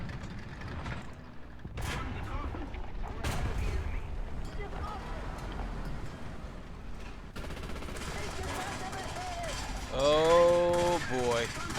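88mm tank cannon in War Thunder firing, with several sharp booming shots spaced across a noisy battlefield, and someone talking over the gunfire.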